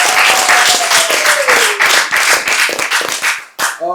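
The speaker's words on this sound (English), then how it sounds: "A round of applause for them." An audience at a couples game show claps and applauds steadily, loud and close, with the clapping thinning out toward the end.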